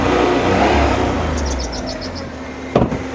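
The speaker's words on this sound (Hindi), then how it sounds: "अब ये हमारी गाड़ी स्टार्ट हो चुकी है।" A car engine, hot-wired in a forest after an electrical current fault, runs with a loud, steady rumble. Faint birds chirp in the background and a brief knock sounds near the end.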